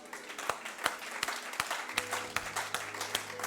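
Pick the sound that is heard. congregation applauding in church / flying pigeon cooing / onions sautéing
congregation applauding in church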